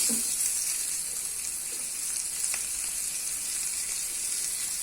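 Chopped onion fries in a pan with a steady, bright sizzle and faint stirring scrapes, close and continuous throughout.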